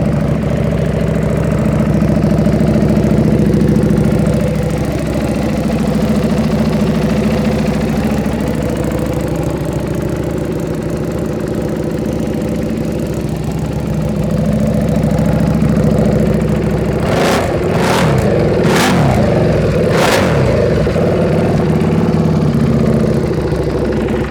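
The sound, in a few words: Buell Fuel Hammerhead motorcycle engine idling and revving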